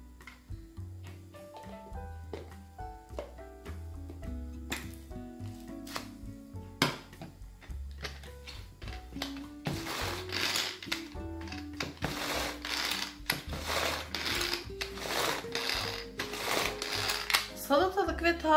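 A Tupperware Super Chef 2 manual pull-cord chopper cuts cucumber and green onion. At first there are quiet clicks and ticks, then a run of quick, repeated whirring bursts from the cord being pulled again and again, close by.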